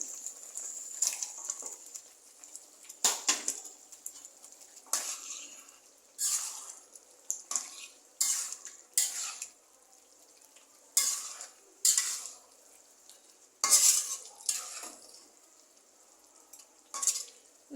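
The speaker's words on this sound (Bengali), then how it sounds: "মশলা কষলে মাংসটা দিয়ে দেবো মশলাটা কষুক মাংসটা দিয়ে দিচ্ছি" Spiced masala for a beef and papaya curry frying in a pan while a spoon scrapes and stirs it in repeated bursts of sizzle, close and fairly loud, with quiet gaps between strokes.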